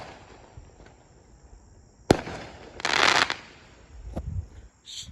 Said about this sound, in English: You may hear popping. It ain't gunshots. They're just shooting fireworks.